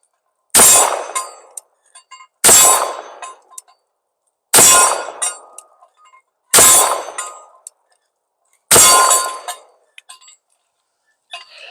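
A Llama 1911 .45 ACP pistol fired outdoors at a target: five loud, sharp shots spaced about two seconds apart, each followed by a brief metallic ring from the hit, near and alone.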